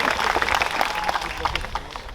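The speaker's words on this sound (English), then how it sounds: "give yourselves a round of applause" An audience seated on the ground at a school Founders Day ceremony claps steadily in dense, continuous applause that fades slightly toward the end.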